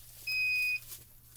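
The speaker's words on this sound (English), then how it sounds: "We're beeping. We're ready." Gemini FoilPress hot foil machine signalling it is ready: one steady electronic beep of about half a second, clear over a low hum, with no talk.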